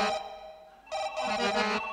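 An old landline phone rings in loud electronic bursts, one long ring, a pause, then another ring, clear and close with no talking.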